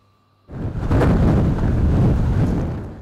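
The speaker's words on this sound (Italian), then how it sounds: "Nelle immagini le raffiche ad oltre 60 km orari che hanno sventrato la tenso struttura" Strong wind gusts of over 60 km/h blowing outdoors and buffeting the microphone, rising suddenly from near silence into a loud, sustained roar that stays heavy for the rest of the moment.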